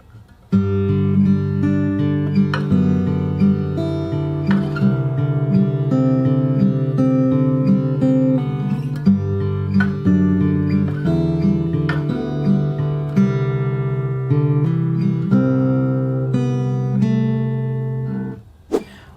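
An acoustic guitar played fingerstyle picks a song intro, with clear plucked notes ringing over low bass notes in a gentle, even pattern, close and alone for roughly eighteen seconds.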